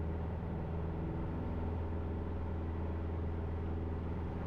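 Piper PA-28 Cadet engine at full throttle, a steady, heavy, droning roar inside the cockpit with a strong low hum and no breaks.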